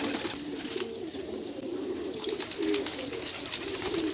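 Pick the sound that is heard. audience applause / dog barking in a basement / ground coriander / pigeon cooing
pigeon cooing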